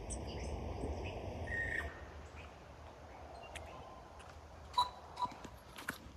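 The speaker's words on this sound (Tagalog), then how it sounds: "Wala kang maririnig kundi yung mga huni lang ng mga ibon." Scattered bird calls ring out in a quiet forest, a few brief chirps near the end over a low, steady background of rustling ambience.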